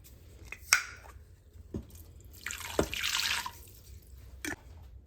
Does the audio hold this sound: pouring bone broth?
yes